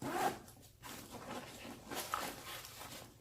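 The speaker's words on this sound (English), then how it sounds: "One thing about this pocket is it will zip down halfway" A backpack pocket zipper, on a CamelBak Urban Assault urban commuter pack, is pulled open partway, giving a series of quiet raspy zipping strokes that are close and faint, with no speech.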